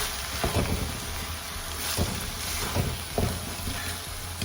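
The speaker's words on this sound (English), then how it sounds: "I'm going to give this a stir" Dum keema stirred in a pot makes scraping and soft thuds of a spoon against the metal, several irregular strokes over a low simmering hiss, close up, with no talking.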